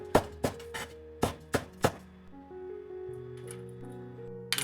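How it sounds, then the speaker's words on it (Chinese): A knife chops scallion greens on a cutting board in a home kitchen, about seven sharp, close taps in an uneven rhythm over the first two seconds, followed by a quiet steady hum. "再把蔥葉部分切成蔥花"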